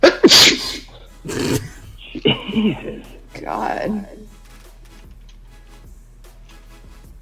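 A single loud, sharp sneeze bursts out near the start, followed by a couple of exclaimed words and indoor conversation during a casual discussion.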